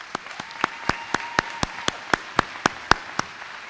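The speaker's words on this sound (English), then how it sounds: "So let's give him a round of applause." Sparse applause at a college commencement ceremony at the College of Lake County, with about a dozen distinct, separate claps that ring out in an uneven rhythm and stand alone without speech.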